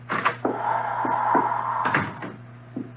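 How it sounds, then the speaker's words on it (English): A door pops open in an old-time radio drama, a short wooden clunk and creak under a steady low hum, followed by a few more light knocks and footsteps, close and moderately loud. "the door popped open and he popped in"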